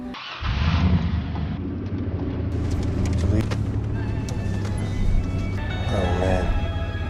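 A car drives in The Last of Us as an engine starts and runs with a steady mid-pitched rumble, mixed with music and other sounds, while people talk over it.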